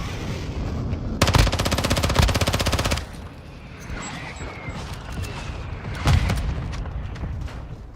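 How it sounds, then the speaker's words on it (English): Rapid machine-gun bursts followed by a heavy mortar impact and further gunfire in the video game Call of Duty Modern Warfare II, with loud rattling fire for a couple of seconds, then quieter battle ambience and another blast. "Hostile mortar strike near your position."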